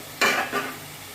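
Potatoes with spices frying in a pan give two brief hissing, scraping bursts as they are stirred in, fading quickly into quiet.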